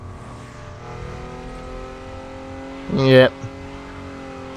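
A steady, humming Nissan 240SX S14 engine in The Crew Motorfest racing game drones throughout, with a person briefly speaking over it partway through.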